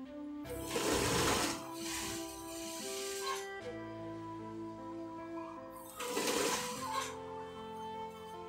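A sewing machine runs in two bursts while stitching bias tape onto a neckline. Each burst has a steady, close whirring hum, with a quieter pause between them.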